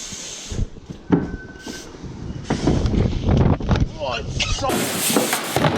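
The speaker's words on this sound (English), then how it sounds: "Oh, it's so windy." Strong gusting wind at a penthouse rooftop ramp buffets the microphone with a loud, roaring rumble that swells and surges throughout, with people talking underneath.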